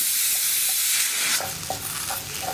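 A spoon scrapes and stirs grated coconut through chana curry in a hot pan, with soft frying sizzle underneath and a few sharper scraping strokes toward the end.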